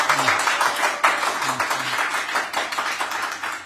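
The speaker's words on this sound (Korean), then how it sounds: "우리와 같은 박수를 한번 여기서 여기 유튜브에 들리게 한번 좀 쳐주세요" An audience at a Korean debate event held in a hall at the prime minister's official residence claps vigorously, a close, continuous patter of hand claps with a few faint voices underneath.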